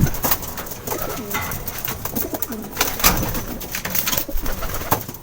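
Pigeons coo repeatedly in soft, low, rolling calls, with a steady hiss of nearby birds and rustling in the background.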